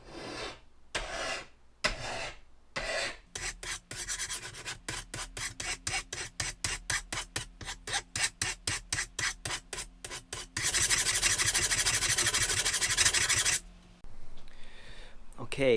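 A hand file rasps across a steel lawnmower blade in a run of steady back-and-forth strokes, some quick and clipped, then a stretch of continuous close, loud grinding before it stops.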